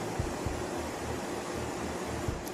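A Symphony Diet 12T 12-litre personal air cooler running at high speed gives a steady, soft broadband whoosh of fan air, even and continuous, with faint low thumps and no talking.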